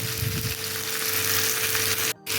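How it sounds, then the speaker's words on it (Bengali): A fish head sizzling steadily in oil and spices in a pan for a Bengali cabbage dish, a loud continuous frying hiss that drops out briefly near the end. "মাথাটা অলরেডি কষানো হয়ে গেছে আর তেল ছেড়ে দিয়েছে, মশলা দিয়ে তেল ছাড়ছে"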